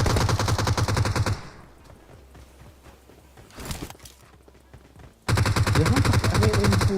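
Rapid bursts of gunfire from the battle royale video game PUBG Mobile, loud dense volleys at the start and end with quieter scattered shots between, no talk over it.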